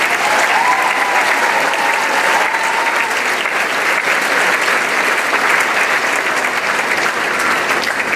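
A large graduation audience at a high school ceremony applauds a group of graduates, steady dense clapping that stays loud and even throughout with no voices over it.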